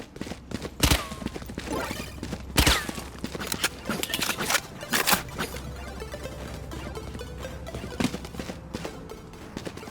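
Gunfire in a video game, played through a Magewell SDI Capture Plus capture device, comes as a few loud, sharp isolated shots spread across a busy background of game sound and footsteps.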